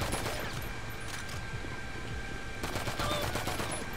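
Gunfire in GTA 5 on PS4, a dense, steady clatter of shots running throughout under a busy game soundscape, loud and close with no clear gaps.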